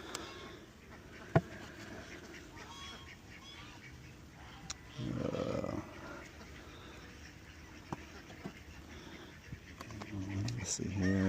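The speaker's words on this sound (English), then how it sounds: "Got bees in there, it's looking good." A steady, low buzzing of many honeybees inside a hive hums throughout, with scattered soft knocks and clicks and a short louder rumble in the middle.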